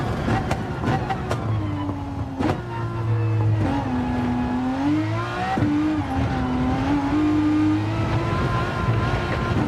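Race car engine in Gran Turismo 7 on the Nordschleife, revving and shifting continuously with rising and falling pitch, loud and close, with brief tire squeals early on.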